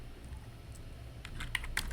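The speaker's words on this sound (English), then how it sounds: "Let me type it." Light typing on a computer keyboard, faint at first and then a quick burst of several close key clicks toward the end.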